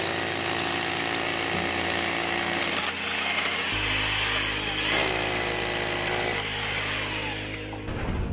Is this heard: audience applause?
no